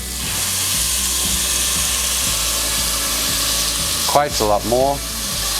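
Chopped onion, green onion and garlic frying in a pan for a chicken stew, a steady loud sizzle filling the whole stretch, with a brief voice near the end.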